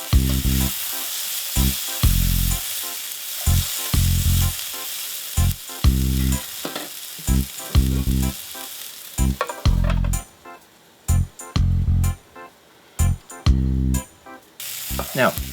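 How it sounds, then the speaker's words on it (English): Gnocchi and vegetables sizzle loudly in a single pan, broken by repeated stirring bursts and brief pauses, with the frying crackle carrying right through. "And let that fry for about 3 minutes."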